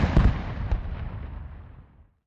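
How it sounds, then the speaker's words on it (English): A rifle salute volley fired by a regiment at an outdoor Sounding Retreat ceremony: one loud, sharp crack of simultaneous shots that rolls away and fades over about two seconds. "all rifle salute."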